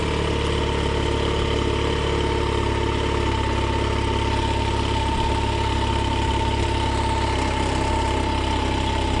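A Mercury 9.9 hp four-stroke outboard engine idling while it warms up, a continuous steady loud hum with a low throb and no change in pace, heard alone.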